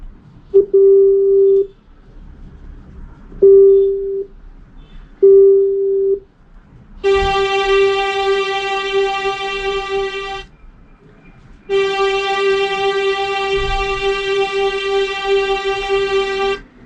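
Short reedy tones from a Roland Aerophone wind synthesizer sound in separate bursts, then with the drone activated a sustained, brighter buzzing drone holds steady for several seconds, pauses, and returns.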